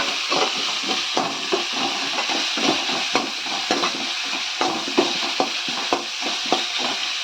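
Capsicum and mixed vegetables sautéing with salt in a pan, a steady sizzle broken by repeated spatula scrapes and taps in an uneven rhythm, close and fairly loud.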